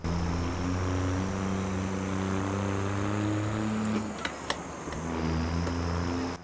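A first-generation Cummins diesel swapped into a 1970s farm truck runs loud and close, holding a steady droning note that dips and falters briefly with a few clicks before settling back into a constant hum.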